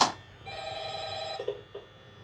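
A telephone rings in a Minecraft horror map, an electronic bell tone sustained for about a second and then trailing into a couple of short fading pulses.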